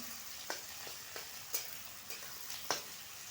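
Chopped onion fries quietly in a hot oil tempering for puffed-rice poha, with a soft, steady sizzle broken by about half a dozen sharp scrapes of a spoon stirring the pan.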